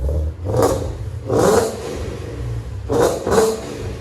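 Ford Mustang GT 5.0 Coyote V8 with headers gives four short, sharp throttle blips close by, arriving in two pairs with brief idle gaps between them.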